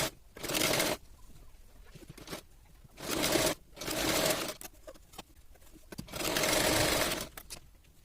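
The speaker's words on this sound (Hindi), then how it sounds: "इसके बाद स्लिप्स के नीचे हम सिलाई करेंगे दोनों साइड।" An electric sewing machine stitching a princess cut blouse, running in several loud bursts of a few seconds each with a steady whirring buzz, separated by short pauses and quiet handling sounds.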